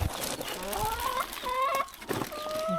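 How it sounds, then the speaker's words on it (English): Backyard chickens cluck and make rising squawks close by, several short calls in quick succession with light rustling between. "I think the chickens like the worms too."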